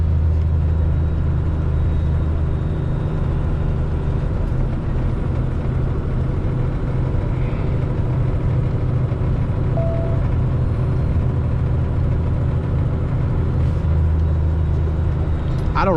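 A car driving through an area under a low power line, with a steady loud engine and road rumble from inside the vehicle throughout, no pauses.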